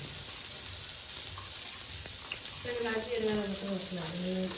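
Onion and ginger fry in a pan with a steady, moderate sizzle up close; partway through, a voice-like tonal sound rises over the hiss and carries on to the end.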